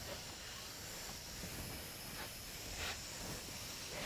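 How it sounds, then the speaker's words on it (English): A steam iron hisses steadily as it presses fabric for a textile craft project, a continuous close-up rush of steam with slight swells in intensity and no talking. "Use a bit of steam, that always helps."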